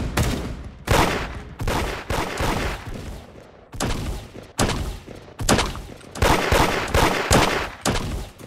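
Gunshots in a Roblox Da Hood raid, loud close bursts of rapid fire recurring in clusters with short pauses, each volley punchy and dense.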